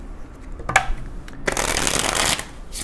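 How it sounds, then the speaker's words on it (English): Tarot cards are shuffled close by: a single soft slap, then a dense papery riffle of about a second that fades into lighter rustling. "I feel like I need to shuffle."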